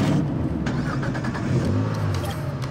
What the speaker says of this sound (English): We're gonna use Dex's car,